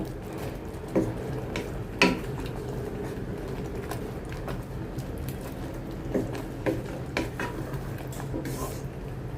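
Semai vermicelli with powdered milk is stirred in a pan, soft scraping and occasional clinks of a utensil against the metal over a low steady sizzle, close and fairly quiet.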